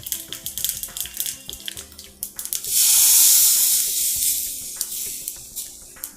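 Mustard seeds, pepper-cumin powder and asafoetida temper in a spoonful of hot ghee for rasam, crackling in a run of sharp pops close by, then a loud sustained sizzle that slowly fades back to scattered popping.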